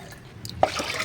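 Liquid bio booster being mixed into water at a 1:10 ratio for watering plants: a short quiet stretch, then one small splash and soft continuous pouring and sloshing of water.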